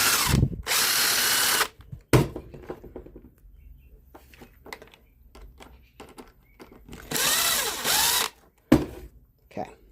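A power drill whirs loudly in a few sustained bursts, separated by quieter clattering and handling noises.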